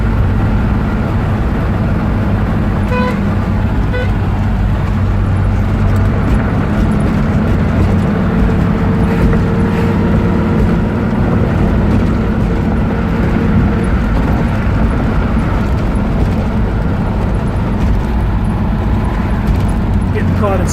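A 1974 Jaguar XKE V-12 roadster cruises in traffic, its engine a steady low hum and rumble mixed with road and wind noise, continuous and close throughout.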